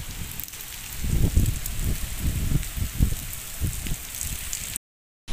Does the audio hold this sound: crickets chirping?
no